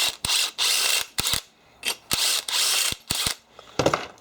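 A power drill widens a screw hole for an M6 screw, with repeated short bursts of whirring and grinding separated by brief pauses, close and fairly loud.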